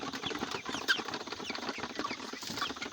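A crowd of 45-day-old broiler chickens, about 1500 grams each, clucks and chirps continuously, a dense overlapping chatter of many birds with no talking.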